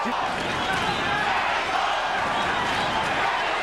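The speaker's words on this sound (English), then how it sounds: "Crowd chanting Mexico, Mexico, trying to lift Chavez up." A large boxing crowd at the Julio Cesar Chavez vs Meldrick Taylor fight chants 'Mexico', a dense, steady roar throughout with commentary mixed in.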